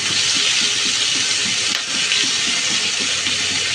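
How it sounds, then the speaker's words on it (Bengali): Chopped onions sizzle in oil left from frying fish, a steady close hiss of frying that runs throughout with a faint rhythmic clatter underneath and no talk. "এখন মাছ ভাজা তেলের মধ্যে দিয়ে দিব কুচানো পেঁয়াজ"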